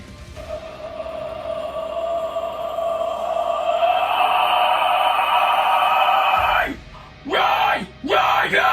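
A raspy, airy vocal scream is held steady and loud for about six seconds, then breaks into a few shorter, choppy bursts.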